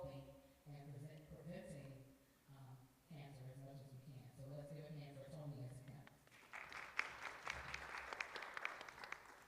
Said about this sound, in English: I need that to be louder when you clap